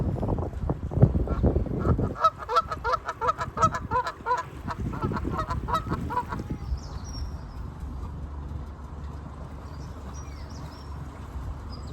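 Several geese honk repeatedly in a rhythmic, overlapping chorus, fairly close, then fade to distant occasional calls over the low background rumble of an electric narrowboat.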